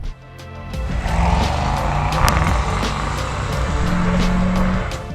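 A Mercedes S-Class rolls through a lap with a continuous low engine and tyre hum that swells after a quiet start, accompanied by regular rhythmic ticking from inside the cabin.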